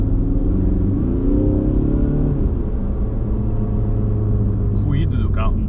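A Ford Mustang driven in Sport Plus mode gives a steady, loud engine rumble that rises and falls as it revs, with a brief higher whine near the end.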